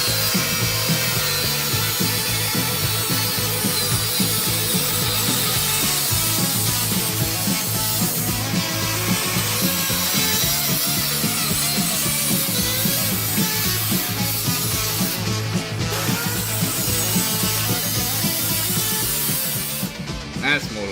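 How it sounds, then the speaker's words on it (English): Sawing through the outer pipe of a custom motorcycle exhaust, trimming about half an inch off; a steady, continuous rasping cut runs loud and close for the full stretch, with no breaks in the stroke. "what I'm going to do is definitely cut this outer pipe"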